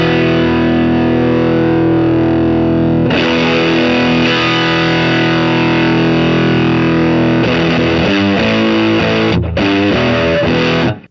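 An electric guitar on the bridge pickup runs through a KMA Machines Minos germanium fuzz pedal with the input control turned up. It plays loud, saturated, sustaining notes with heavy low end and a few choppy breaks near the end.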